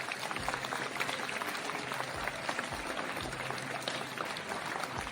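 Audience clapping for children after a stage program at an Environment Day celebration, a steady wash of applause from a crowd at moderate distance with a faint low hum underneath.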